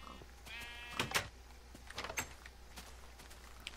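Sheep bleating in the video game Minecraft, several short bleats in quick succession over a quiet background, at moderate volume with no talking.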